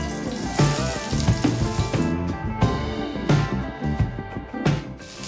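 Onions hitting hot olive oil in a heated pot for a corn and tortilla soup, giving a loud, close, dense crackling sizzle with clattering utensil sounds throughout.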